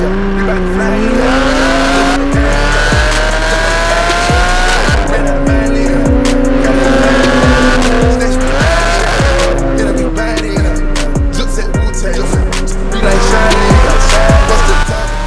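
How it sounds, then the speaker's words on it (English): A 2014 Porsche GT3 sports car driven hard, the engine droning loud and near with rising and falling revs and recurring tire squeals, while voices can be made out faintly underneath. "So this is my 2014 GT3"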